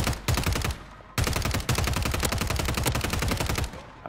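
Rapid automatic gunfire in a video game rattles in long, close bursts with brief breaks between them.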